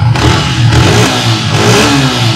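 A used Indonesian-version Yamaha R15 V3 with 21,000 km on it runs close and loud. Its engine note rises and falls in a few revving surges over a steady rumble.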